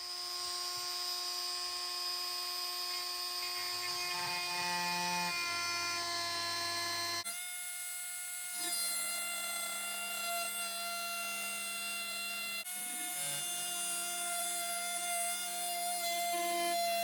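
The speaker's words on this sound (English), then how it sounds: "I'm going to get the multi-tool out" An oscillating multi-tool cuts through a model railway scenery board with a steady, high-pitched buzzing whine, and the tone shifts a few times as the blade bites and the load changes.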